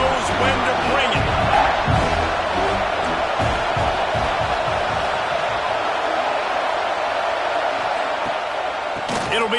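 A dense stadium crowd in the College Football 26 video game roars steadily through a Clemson vs South Carolina game, loud and unbroken, while a commentator talks over it.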